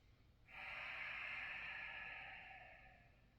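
A single long, slow breath drawn in through the nose during a restorative yoga session, soft and close, rising over about half a second and sustained for nearly three seconds before tapering off, with no talking.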